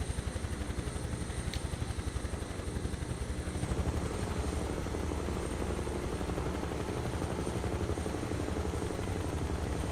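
Huey helicopter in Microsoft Flight Simulator 2024, a loud continuous turbine roar with the rapid rhythmic chop of the rotor blades, steady and close throughout with no talk.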